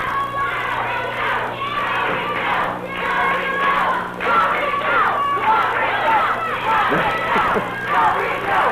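A 1979 Memphis wrestling crowd chants and yells in rhythmic waves, a dense mass of voices rising and falling steadily throughout.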